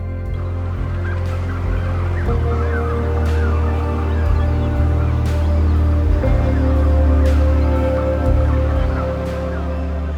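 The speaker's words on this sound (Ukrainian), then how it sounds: "Це справжній пташиний базар." Dense chorus of many birds calling at once in a wetland colony on the Kinburn Spit, Ukraine, loud and continuous, with honking and gobbling cries layered over a low rumbling background.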